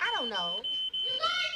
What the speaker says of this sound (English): that's a smoke alarm. There's something burning.